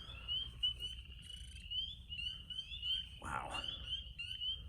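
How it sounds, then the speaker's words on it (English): Leopard frogs call repeatedly from a ditch in spring, a steady stream of near, rhythmic croaking trills over low outdoor rumble, with a brief exclamation from a person partway through. "there's actually some leopard frogs calling behind"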